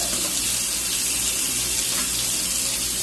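Steady rush of water pouring from a kitchen tap while cooking steak, continuous and fairly loud with an even hiss throughout, no talking.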